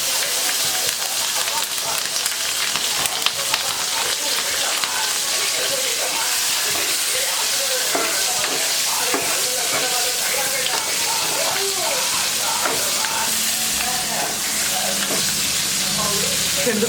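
Green chillies fry in hot oil with salt and cumin, giving a loud, continuous crackling sizzle that stays dense and even throughout.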